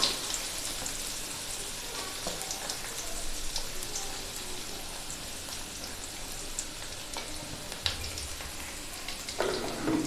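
Steady close sizzle of chopped onions sautéing in hot oil, with scattered crackles and pops and an occasional scrape of stirring.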